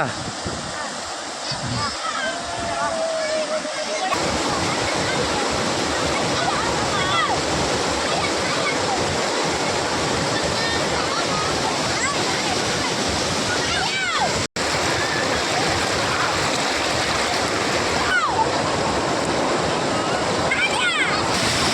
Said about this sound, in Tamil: எந்த அளவுக்கு சத்தத்தோடு தண்ணி வந்து கலங்கி போயிட்டுருக்கு தெரியுதா